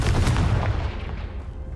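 Confringo, a fire spell in Hogwarts Legacy, lands as one heavy, booming blast with a quick crackle of bursts, then rumbles and fades away over about a second.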